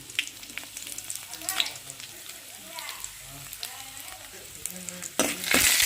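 Dried red chillies frying in a little oil as a tempering for chutney, a continuous close sizzle with scattered crackles and spoon scrapes against the pan, rising louder near the end, with faint speech underneath.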